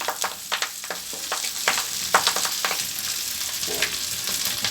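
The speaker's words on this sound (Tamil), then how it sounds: "இன்னும் கொஞ்சம் எண்ணெய் ஊற்றிட்டு நம்ம கீரையை வறுத்து எடுத்துக்கிடுவோம்" Moringa leaves fry in oil in a pan, giving a continuous close sizzle broken by quick stirring scrapes and taps. No voices are heard.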